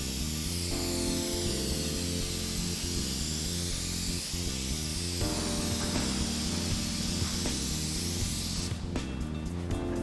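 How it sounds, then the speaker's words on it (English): A steady, continuous aerosol hiss sprays onto car headlights without pause, with music playing underneath throughout. "push the button off whatever you're spraying and then drag it along slowly"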